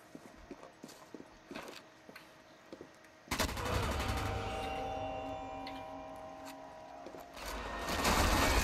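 Player taking heavy gunfire in Sniper Elite 4 on the Regilino viaduct, with scattered ticking shots giving way to a sudden loud, sustained burst of rapid fire that swells toward the end.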